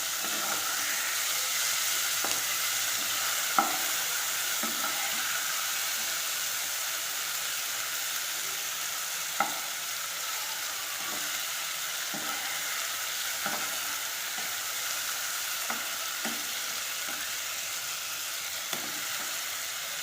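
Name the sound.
prawns being flipped and fried in a pan for biryani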